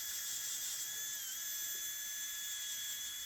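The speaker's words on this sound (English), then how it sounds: "we're marking the holes that we're going to need to drill for the speaker mount" A high, continuous whine of a power drill drilling holes for a radio speaker mount in a Ford F-150 runs steadily throughout, its pitch dipping briefly midway, with no voices.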